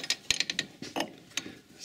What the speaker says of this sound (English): What I'm trying to do now is unwind this bolt here,